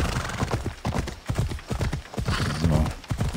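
A horse in the video game Assassin's Creed Odyssey trots with close, rhythmic hoof clip-clops and a brief whinny near the end.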